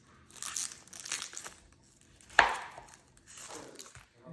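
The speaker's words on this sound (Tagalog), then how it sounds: "So we slice onion, sibuyas." A knife slices through onion on a cutting board while Christmas Eve dinner is being prepared, giving soft crunchy cuts in a loose rhythm with one sharper knock against the board, close and quiet.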